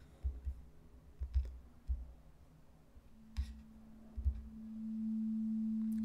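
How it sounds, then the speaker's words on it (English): A steady 220 Hz pure sine wave tone fades in and holds at a constant low-mid pitch, preceded by scattered soft clicks and taps. "a sine wave is just a pure tone that has no overtones"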